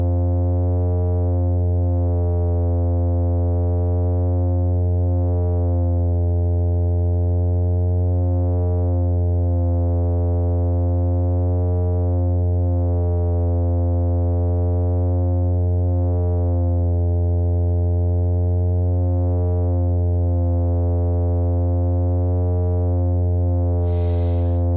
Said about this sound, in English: I'm actually going to change envelope amount, and all the envelope is affecting is the frequency because resonance is at 0